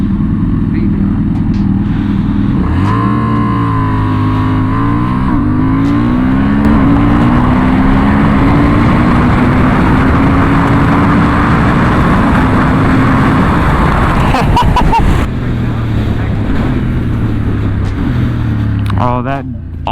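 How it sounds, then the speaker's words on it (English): A Honda CB750 Hornet sport bike with auto blip revs and accelerates through the gears, its engine note climbing, dropping sharply on shifts and climbing again, loud and close with wind rush, ending in quick throttle blips. "Oh, that auto blip is so nice. This thing has got a lot of low end torque."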